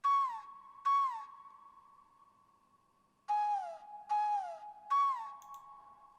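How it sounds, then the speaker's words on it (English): A synthesized flute plays a sparse melody of short bending notes over a held tone, with a pause in the middle, clean and spacious. "I use this flute preset a lot. Sounds like this."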